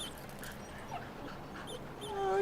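A dog whimpers in the New York City expansion of the video game The Division 2, a few soft high whines and yips at close range over quiet game ambience.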